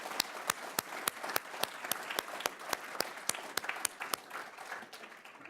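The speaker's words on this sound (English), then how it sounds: "let's all have a round of applause" Audience applause for student participants at a university engineering research showcase awards presentation, a steady wash of many hands clapping with a few sharper, closer claps standing out, continuous throughout without speech.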